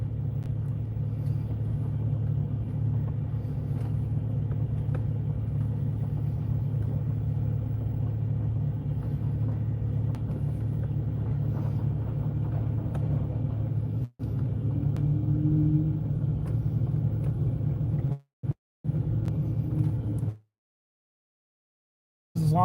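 A truck engine drones in a low, steady rumble while driving, continuous and fairly close, with the sound cutting out briefly a few times and dropping to silence near the end.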